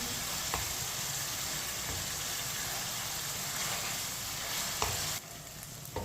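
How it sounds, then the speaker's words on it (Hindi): Chicken frying in a pan over medium heat, a dense, even sizzle held throughout with a few faint clicks, dropping suddenly quieter near the end. "मीडियम आंच पर 5 मिनट के लिए पकाएंगे"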